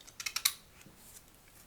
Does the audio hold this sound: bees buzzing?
no